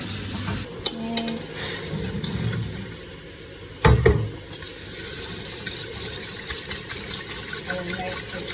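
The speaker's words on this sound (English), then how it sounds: "I'm going to use the sieve and I'm going to give it cold water massage" Cold tap water running over cooked glass noodles in a sieve, a steady hiss and splash with clinks and a louder clatter midway, close up and alone.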